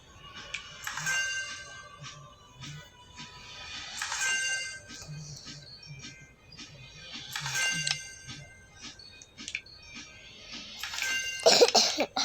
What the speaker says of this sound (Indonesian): mama batuk lagi